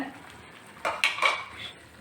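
Cooked broccoli being strained in a home kitchen, with a few clattering knocks of metal pots and utensils and a brief splash of draining water, close and fairly quiet, no voices.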